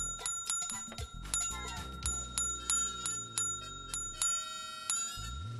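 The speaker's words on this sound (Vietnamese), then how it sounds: "Mọi người cũng chỉ muốn bé không bấm cái chuông thôi đúng không?" A small bell, like a bicycle bell, is pressed again and again, giving about a dozen bright metallic dings in a quick, uneven rhythm, each ringing briefly over a low rumble.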